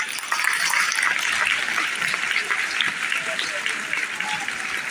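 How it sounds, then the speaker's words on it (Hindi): An audience at a school naat recitation competition claps for a child reciter, loud, dense applause from a large crowd filling the whole stretch without letup, with a faint murmur of voices underneath. "इस बच्चे के लिए भरपूर तालियां।"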